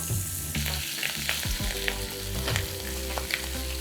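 Butter-poached salmon, skin side down in a pan of butter, crisps with a steady, close sizzle and faint spatter that runs throughout, with soft music-like tones in the background.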